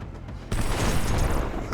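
A grenade blast in Gangstar New Orleans lands as a sudden loud boom that hangs as a dense, rumbling roar, preceded by a steady layer of game noise.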